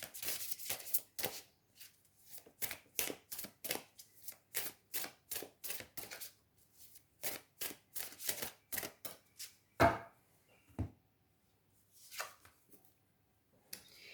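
Oracle cards being shuffled by hand in a rapid run of crisp, close riffling slaps, then a pause and a few slower, scattered flicks toward the end, with no talking over them.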